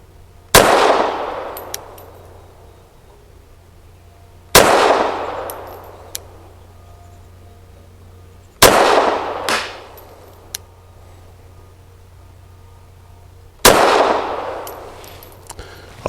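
Girsan MC14G84 pistol fired at a target: four loud, close shots spaced about four seconds apart, each a sharp crack with a ringing decay, and no talking.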